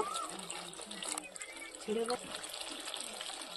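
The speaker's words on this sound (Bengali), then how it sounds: "এবার জল দিয়ে দেব।" Water is poured into a pan of cooked-down spices for a fish curry, giving a steady, low, splashing rush under a faint voice.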